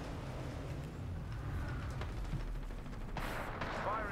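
Smart bullets fire at enemies in an online shooter game, a steady dense crackle of gunfire-like bursts filling the mix with a sharper burst near the end, under faint game noise.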